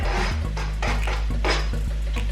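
A utensil stirs carrots, celery and other vegetables in a pan for chicken cacciatore, with repeated scraping strokes and light knocks against the pan at an uneven rhythm, close up, over a steady low hum.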